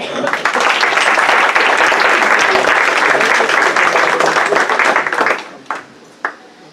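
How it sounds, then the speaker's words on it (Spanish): Loud, dense applause from a symposium audience in a lecture hall fills most of the stretch, then thins out into a few scattered final claps. "Pues muchas gracias. Un aplauso."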